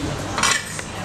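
A knife working through a thick T-bone steak on a plate, giving a short scrape with a metallic clink of cutlery against the dish, close and brief.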